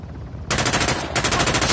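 Automatic gunfire in Uncharted: The Lost Legacy, a loud, dense burst of rapid shots that starts abruptly and runs continuously, with a brief dip before resuming just as hard.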